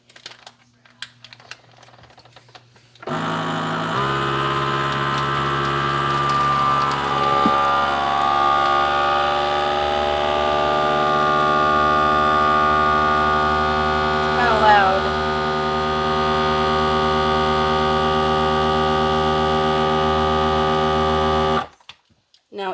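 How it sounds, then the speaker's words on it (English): Vacuum sealer working on a bag of frozen leftovers, a steady loud electric motor hum with a pumping drone that runs for about eighteen seconds, starting and stopping abruptly, alone with no voices. "Now, I'm going to pop this in the vacuum sealer, and I'll show you how it vacuum seals right around that."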